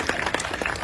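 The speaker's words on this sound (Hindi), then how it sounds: "तालियां" Brief burst of audience applause at a public aid gathering, dense and steady for under a second, with no talk over it.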